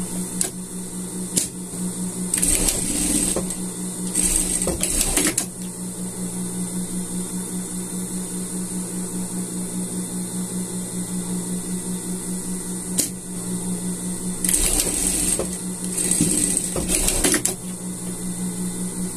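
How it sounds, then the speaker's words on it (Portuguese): A sewing machine stitches the shoulder seams of a men's sweater in short, loud mechanical bursts with pauses between them, over a constant electrical hum. "Vamos pregar os dois ombros aqui certinho"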